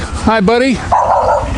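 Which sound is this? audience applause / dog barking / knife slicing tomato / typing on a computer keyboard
dog barking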